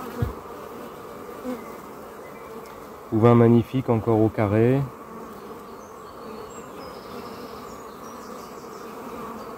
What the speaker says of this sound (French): Quelques abeilles qui sont agacées mais sans plus.